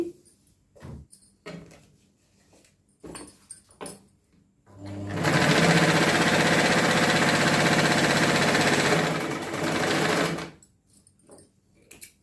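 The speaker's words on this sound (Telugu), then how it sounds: "దీన్ని ఇలా మడిచేసి ఇక్కడ కుట్టు వేసేయండి" An electric sewing machine stitches a patiala salwar, with a steady run of about six seconds in the middle of the clip, close and loud, framed by quieter handling taps and rustles before and after.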